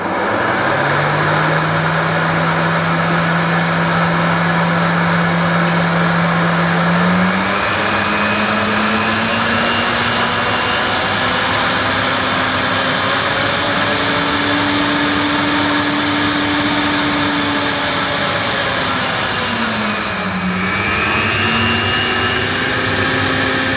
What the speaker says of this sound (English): So now I can switch the cleaner on and then switch on at the socket.